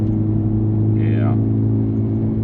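Honda Civic Type R FL5 cruising, a steady low engine drone and road rumble from inside the cabin, with a brief higher whine partway through.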